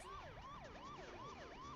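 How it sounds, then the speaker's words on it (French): Rising and falling wail of a car siren in the racing game Burnout 2: Point of Impact, looping steadily about every half second, loud and continuous with no talk over it. "je vais vous activer la sirène"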